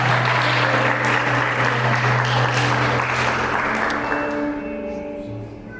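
A church congregation applauds during an evening service, a loud sustained wash of clapping over a held organ-like musical tone that gradually thins and fades toward the end.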